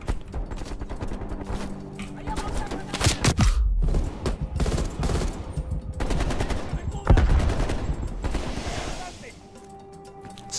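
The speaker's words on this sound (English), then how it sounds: "Damn, they fire upon me very fast" Enemy gunfire in the Call of Duty Black Ops Cold War campaign: dense, rapid automatic bursts and heavy booms that pound on continuously for about ten seconds, mixing with a voice.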